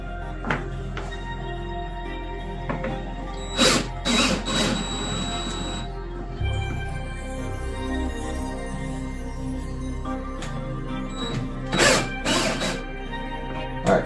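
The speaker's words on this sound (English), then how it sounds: "These ones in the back have to be loosened up." A ratchet loosens bolts on a car's rear: bursts of rapid clicking ratchet strokes, close and distinct, separated by pauses over a low steady hum.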